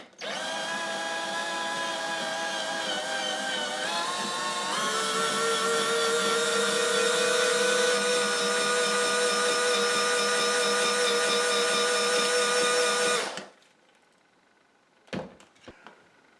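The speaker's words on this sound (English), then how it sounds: "It's a 4mm one, but the end is ground for fitting in the dimple in the rivet and neatly drilling it out." A 4mm drill bit with a ground tip bores out a rivet on a Dinky toy car under restoration, running steadily at close range for about thirteen seconds before stopping, followed by a few faint clicks.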